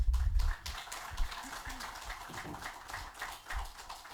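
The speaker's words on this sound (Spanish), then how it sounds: "Muchas gracias a los ponentes, por favor, fuertes aplausos." Applause from a seminar audience on the history of health, right after the speakers' presentations: scattered, light clapping that stays fairly even throughout, with some voices mixed in.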